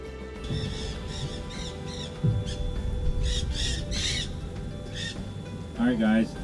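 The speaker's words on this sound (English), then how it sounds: "That's wild parakeets really flying around here." Wild green parakeets squawk in repeated harsh bursts in the background of an outdoor pellet-grill cook, loud and overlapping, with a louder close squawk near the end over steady ambient noise.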